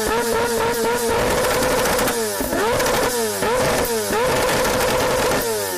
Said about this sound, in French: Actuellement, nous sommes en train de faire la compétition du moto qui a plus de bruit.